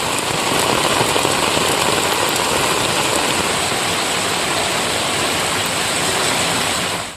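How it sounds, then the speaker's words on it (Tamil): Heavy rain pours steadily in Tamil Nadu, a dense, continuous hiss of downpour on surfaces that stays loud and even throughout, with no voices. "இன்னைக்கு ஒரு அரை மணி நேரமாக நல்ல மழை எடுத்து வாங்கிறது"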